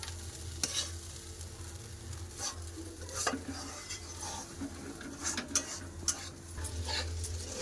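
Rice frying in a pan, a low, quiet sizzle under intermittent sharp scrapes and clinks of a spoon stirring against the metal.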